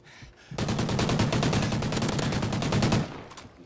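Automatic weapon fire in a Call of Duty: Ghosts free-for-all multiplayer match, a dense, loud, continuous burst of rapid shots lasting about two and a half seconds before cutting off.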